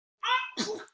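A single close sneeze, a quick voiced intake followed by a sharp burst, heard alone in a quiet room.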